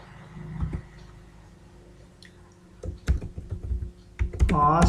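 Typing on a computer keyboard while entering an SQL update query, with bursts of close, crisp key clicks after a quiet stretch, growing denser toward the end, and a voice briefly in the background.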